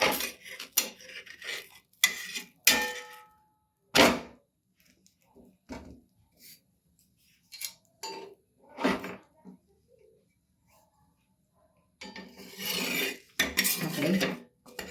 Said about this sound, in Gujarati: તો મિત્રો નીચેની સાઈડ થોડો શેકાઈ ગયો લાગે છે, તો આપણે આને પલટાવી લઈશું.